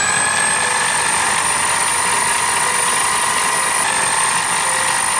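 A fishing reel line spooling machine runs with a constant, loud mechanical whir and a high steady whine, unchanging throughout with no voices.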